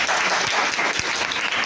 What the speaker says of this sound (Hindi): मैं चाहूँगा हमारे सर के लिए जोरदार ताली होनी चाहिए।